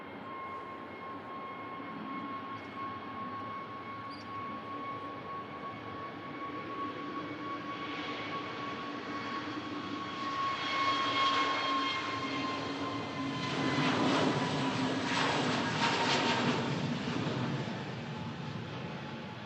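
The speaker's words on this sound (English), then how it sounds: "We have the Pegasus A321neo heading back to Istanbul." A Pegasus Airbus A321neo jet departs Manchester Airport, its engine roar and whine building from a distant steady hum to a louder rumbling peak before easing slightly, heard from afar with no talking.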